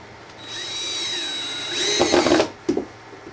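A handheld power drill whines and rises in pitch as it drives number 6 flathead screws into a wooden drill press cart, with two short bursts close by and a brief clunk.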